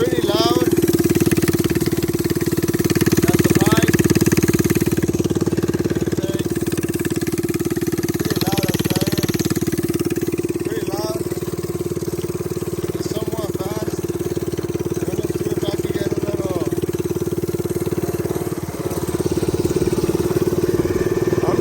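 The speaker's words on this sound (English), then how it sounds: "I'm not even pressing the throttle. The idle might be a little too high." A mini bike's small engine runs steadily at a slightly high idle while the bike cruises without throttle, a continuous near drone holding level throughout.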